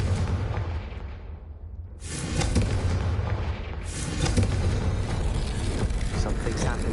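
Confringo fire-blast spell exploding in Hogwarts Legacy: two loud, full-range blasts, one at about two seconds and one near four seconds, each followed by a sustained roaring rumble over a dense game soundscape.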